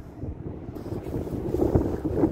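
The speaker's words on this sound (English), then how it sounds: "This wind is insane" Strong gusting wind buffets the microphone outdoors on a fishing outing by the water, a continuous rough roar that swells and surges in waves, with no talking.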